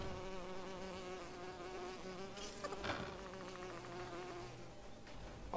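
A steady insect-like buzz of a bee in the Lego The Hobbit video game, droning continuously at moderate level under game music and ambience, with no speech.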